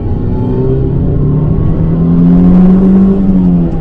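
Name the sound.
1989 Toyota Celica GTS engine accelerating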